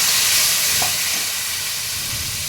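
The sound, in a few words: spice paste sizzling in hot oil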